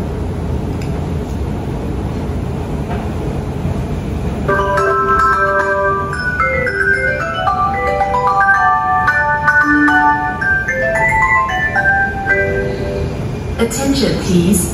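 A melodic arrival chime rings out at Tai Seng MRT station in Singapore, a run of bright electronic tones repeating over several seconds against steady platform rumble and crowd murmur, with a louder burst near the end.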